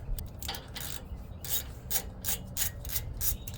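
A ratchet with a 10mm deep socket clicks in short repeated bursts while loosening a nut near a wheel speed sensor on a 2019 Ford Expedition Limited Max, the crisp pawl ticks close and fairly quiet.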